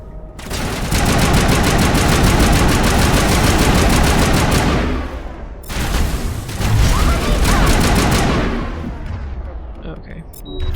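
Sustained automatic weapon fire in Mass Effect, loud and close, in long continuous bursts with a brief pause midway, with heavy combat noise and voices underneath.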